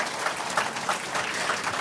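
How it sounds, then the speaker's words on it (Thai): A seminar audience applauds a woman named Sai on stage, a brief burst of dense, even clapping from a crowd with no talking over it. "ปรบมือให้คุณทรายด้วยนะคะ"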